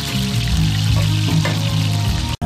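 Longaniza sausage and garlic fry in a pan for gachamiga manchega, giving a steady close sizzle with light scraping and stirring, and a brief cut near the end.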